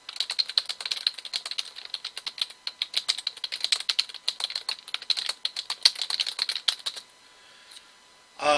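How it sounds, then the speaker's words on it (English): Rapid, uneven tapping of keys on a computer keyboard, close and fairly quiet, running continuously for several seconds before stopping. "I'm going to type it out just in case."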